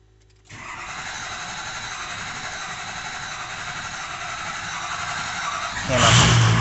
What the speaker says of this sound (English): I cranked it long enough, probably a good 30-60 second crank.